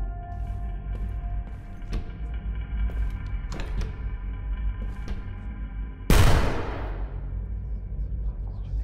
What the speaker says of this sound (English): It was the door opening Victor.